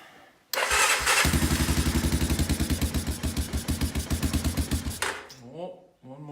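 A 1986 Honda 250SX engine catches and runs with a loud, steady rapid chugging for several seconds, then cuts out, with a voice briefly audible near the end.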